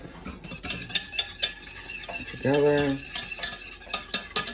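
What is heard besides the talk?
whisking egg yolks for custard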